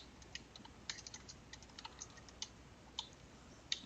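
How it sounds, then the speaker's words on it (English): Typing on a computer keyboard while writing a Python script, a quiet, irregular run of light key clicks with a few sharper taps, heard alone with no talking. "And here we can start typing our script."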